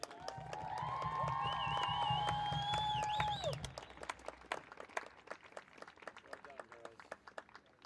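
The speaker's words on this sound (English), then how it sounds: "One more great round of applause," Crowd applause and cheering for the RPI women's lacrosse class of 2026 seniors on senior day against Bard College: dense clapping with whistles and voices for a few seconds, then thinning to scattered claps and chatter.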